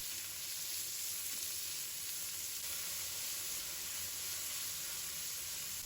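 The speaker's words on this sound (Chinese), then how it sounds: "再把肉丝加入锅中，把肉丝炒至变色" Pork strips stir-frying in a wok for fried noodles, giving a steady, even sizzle and hiss with no pauses or voices.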